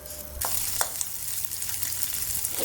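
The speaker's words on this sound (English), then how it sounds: "Pan fry the shrimps with medium heat." Shrimp fry in a pan over medium heat, a steady close sizzle with a few light stirring clicks and no voices.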